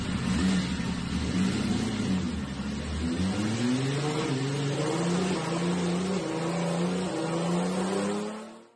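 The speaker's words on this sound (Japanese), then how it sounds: "試作の L 型ヘッド火入れを行いましたので、その映像をご覧いただきたいと思います" Nissan L28 inline-six fitted with a prototype cylinder head, fired up for the first time and revved to around 5000 rpm; a steady, loud engine drone whose pitch climbs and settles in repeated rising revs, with no talking.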